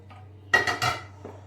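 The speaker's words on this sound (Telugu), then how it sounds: "ఈ సాటే చేసుకున్న మిక్స్ అంతా మన బ్యాటర్లో వేసుకోవాలి" Sautéed vegetable mix tipped into batter in a pan, heard as a short, close clatter of a utensil against the pan, two quick scraping knocks followed by a softer one, with a faint steady hum underneath.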